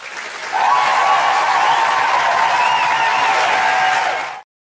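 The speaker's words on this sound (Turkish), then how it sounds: "Şöyle bir kocaman bir alkış alalım." Applause from a crowd in a PUBG Mobile game video, heard as a steady, dense wash of clapping and cheering that holds for about four seconds and then cuts off abruptly.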